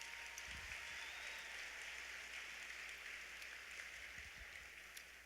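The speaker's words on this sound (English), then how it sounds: "One more round of applause for everyone who participated in that." Sustained, dense applause from a banquet crowd at an awards ceremony, a steady wash of many hands clapping that fades slightly toward the end with no talk over it.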